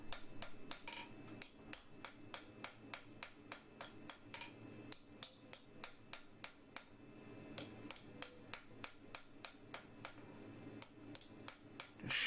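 Light hammer blows ring out on flat stock tongs being forged, a steady rapid series of sharp metallic taps at close range, fairly quiet overall.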